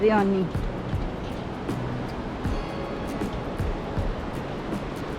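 Rioni River water rushes in the morning in Batumi, Georgia, a steady broadband wash close by with a few knocks and clatters, while a person talks over it.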